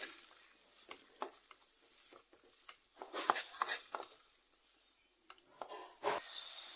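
Green chillies and tomato being sautéed with salt in a pan, a soft sizzle with intermittent stirring scrapes and light taps, fairly quiet and close, swelling briefly louder near the end.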